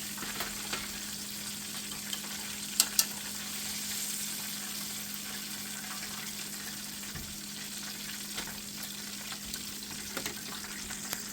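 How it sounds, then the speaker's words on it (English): Breaded chicken frying in oil for a copycat Popeyes chicken sandwich: a soft, steady bubbling sizzle with a low hum beneath and a couple of sharp clicks, fairly faint and even, no talk. "we fry up the next batch"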